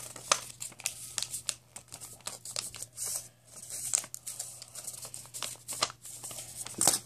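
Paper crinkles and crumples in quick, close, irregular bursts as a sheet is folded into a glider plane, with occasional sharper creasing sounds and no talk.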